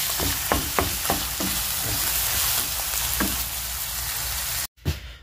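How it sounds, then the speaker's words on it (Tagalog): Spaghetti sauce frying in a pan, a steady close sizzle broken by several sharp clacks of stirring, with a brief cutoff and a final knock at the end; no voices. "Ito na yung sauce ng spaghetti. Niluluto na natin."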